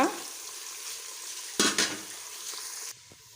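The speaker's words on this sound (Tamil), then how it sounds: "கோல்டன் ப்ரௌன் ஆகிற வரைக்கும் நல்லா வதங்கட்டும் இதோட முந்திரி பருப்பும் சேர்த்து வதக்கிக்கோங்க" Onions and cashews sauté in a pan with a steady sizzle, interrupted by a couple of louder bursts of stirring, then settling to a quieter hiss near the end.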